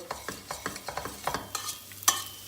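Dried mint being stirred into tomato paste frying in a pot: a rhythmic series of spoon scrapes over a soft sizzle, close and fairly quiet, about ten strokes.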